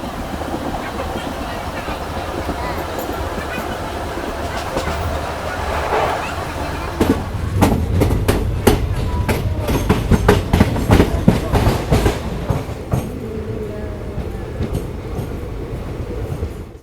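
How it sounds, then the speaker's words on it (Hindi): Inside a sleeper coach, a train pulls out of Mehsi railway station in Bihar. A steady rumble builds into loud rhythmic wheel clatter and rattling that fades near the end. "फाइनली अपनी ट्रेन 2 मिनट हॉल्ट के बाद डिपार्चर हो चुका अपनी बिहार के मेहसी रेलवे स्टेशन से"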